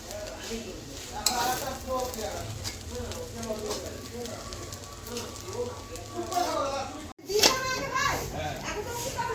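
Fried rice being stirred in a frying pan with ghee, a steady sizzle and scraping of the spatula running throughout, with children's voices and chatter heard nearby over the cooking.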